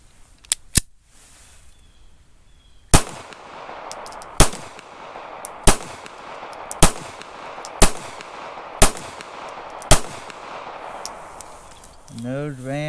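Taurus Spectrum .380 ACP pistol fired at a range: two early shots, a pause, then a steady string of sharp, loud reports about a second apart with brief echoing tails.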